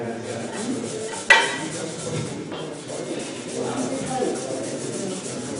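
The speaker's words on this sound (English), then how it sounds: "Just hand sand with that" Hand wet-sanding rust off metal makes a steady, close rasping rub that continues throughout, with one sharp scrape or knock partway through and low rumbling underneath.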